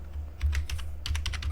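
Quick bursts of clicking keys on a computer keyboard as JavaScript code is typed, irregular clusters of close, crisp keystrokes with short pauses between them, over a faint low hum.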